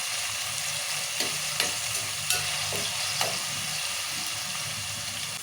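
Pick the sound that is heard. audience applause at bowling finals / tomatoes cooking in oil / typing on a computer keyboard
tomatoes cooking in oil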